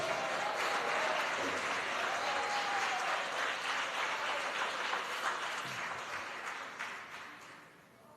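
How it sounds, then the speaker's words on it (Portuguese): A church congregation breaks into loud, sustained applause for Jesus, dense and continuous for several seconds before slowly fading near the end. "dá para ficar melhor as palmas com glória a Deus"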